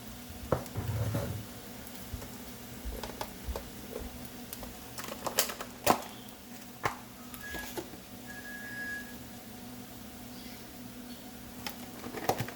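Egg fried rice with soy sauce, black pepper and white pepper stirred in a pan: a soft ongoing sizzle with scattered scraping clicks and taps of the spatula.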